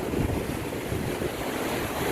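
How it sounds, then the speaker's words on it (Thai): Strong sea waves break on a beach at Ban Chang, Rayong, Thailand, a steady roar of surf mixed with gusting wind buffeting the microphone, loud and continuous with no voices. "คลื่นแรงขนาดเลยครับ"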